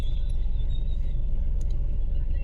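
A car is parked close by, its engine giving a steady low rumble with faint traffic-like noise around it and no clear speech.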